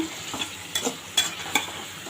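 Pointed gourd, potato and tomato sautéing in a pan, a low steady sizzle with several quick spatula scrapes and taps at irregular intervals, close and with no talking.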